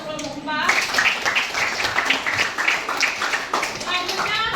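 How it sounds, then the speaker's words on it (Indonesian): Classroom group of teachers in an Indonesian coaching session claps for a presenting group, brisk close-up applause with a few voices chattering over it, starting after a brief spoken moment. "Kita beri tepuk tangan untuk kelompok 4."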